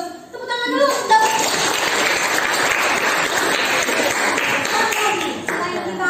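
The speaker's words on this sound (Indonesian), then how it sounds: "Tepuk tangan dulu." A group claps hands together on cue in a teacher training class session, a loud sustained round of clapping lasting several seconds with brief voices at the start and end.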